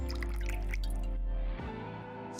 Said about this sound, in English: Scarlet pours some wine into a glass.